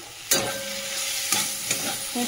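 Red spinach greens fry in a pan, a steady close sizzle broken by three or four distinct scraping stirs of a spatula, with no talking.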